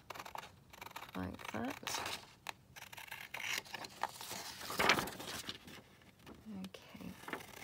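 Scissors cut around a page torn from a book for a glue book folio, giving soft snips and paper rustles close by, with quiet speech between the cuts.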